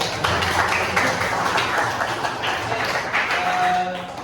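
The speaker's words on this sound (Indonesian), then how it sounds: "Tepuk tangan" Classroom applause from a group of students, dense clapping that fills the whole stretch at steady volume, with faint talk underneath.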